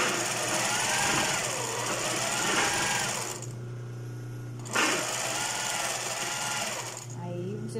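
A noisy sewing machine stitches a lace top in long continuous runs, loud and steady, pausing briefly around the middle and again near the end.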